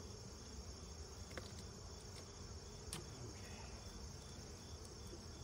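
Honeybees buzz steadily around a beekeeper's veil while a Layens hive is opened for inspection, a dense, agitated drone with a few faint clicks and no voices.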